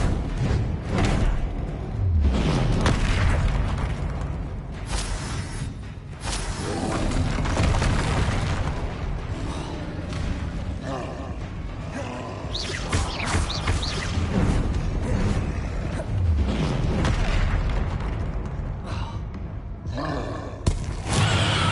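Blasting-spell explosions from the wizarding game Hogwarts Legacy on PS5, a long run of booming blasts, crashes and heavy thuds with rolling roars between them, loud and continuous with no clear voices.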